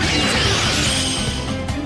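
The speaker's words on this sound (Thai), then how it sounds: "นี่นะครับ คือหน่วยดัดเหล็กของเราครับ" A steel bending crew works metal while building a new fish pond, producing a loud, sustained crashing and scraping clang that fills the brief moment up close.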